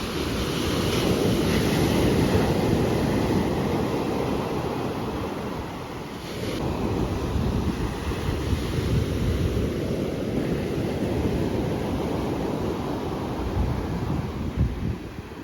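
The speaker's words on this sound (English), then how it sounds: "It's getting really loud, so I'll turn it around and show you the ocean." Sea waves and strong wind roar continuously at Crimdon Dene Beach, a loud, rough wash of surf with heavy wind buffeting the microphone, swelling and easing slightly with no voices.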